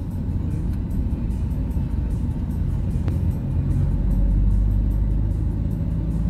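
Trucks from Banjar rumble past on a road near a roadside eatery, with a low engine drone that swells louder as a heavy vehicle comes close toward the end.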